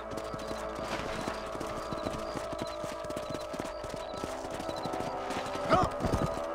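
Horse hooves clip-clop steadily at a walking pace in the Red Dead Redemption video game on a ranch, a continuous mid-level rhythm over a faint background music drone, with a brief louder clatter near the end.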